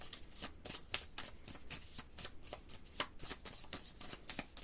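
Tarot cards shuffle in a quick, riffling patter, close and steady, with soft flicks as cards are handled and drawn, and almost no voice.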